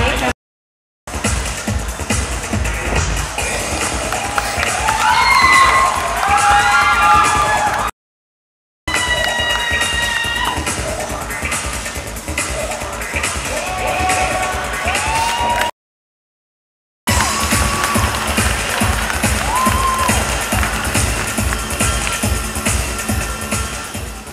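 Audience at the 2009 Kom Chad Luek award show screams and cheers in a sustained, fairly loud crowd roar with scattered shrill voices, broken by two brief silent gaps.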